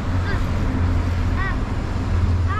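Steady outdoor wind blows across the microphone in a constant broadband rush, with a few faint whistling tones rising and falling above it; no one speaks during it.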